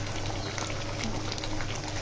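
Fish roe simmering in a covered pot of boiling water, a steady, close bubbling and hissing churn that holds evenly throughout without any talk.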